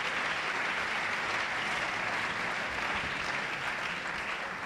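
Church congregation applauding and cheering in worship, a steady wash of clapping that holds evenly throughout at moderate loudness.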